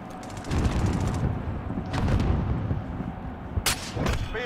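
In a shooter video game, a heavy boom and bursts of gunfire hit close and loud, with rumbling blasts spaced over a few seconds and sharp cracks between them.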